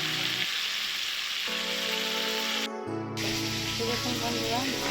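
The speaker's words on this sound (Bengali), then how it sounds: "দেখুন বন্ধুরা, মাছটা ভাজা হচ্ছে।" Bhetki fish fries in a pan with a steady, close sizzle and hiss, overlaid with background music.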